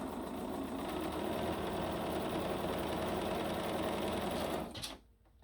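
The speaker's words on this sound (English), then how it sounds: "you're just going to sew on the drawn line" Sewing machine stitching a quilt block along a drawn line, a steady close mechanical whir with a fast needle chatter running for almost five seconds before slowing and stopping.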